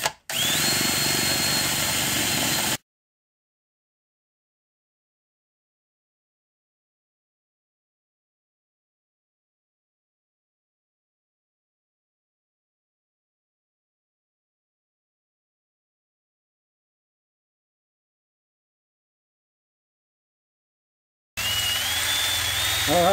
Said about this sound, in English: I'm going to take this 5/32 drill, see if we can open that hole up